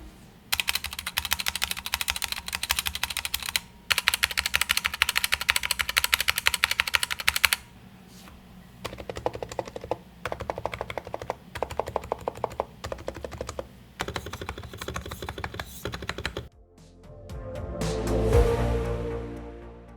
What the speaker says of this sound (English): this is the sound of a usual stab for a stock mechanical keyboard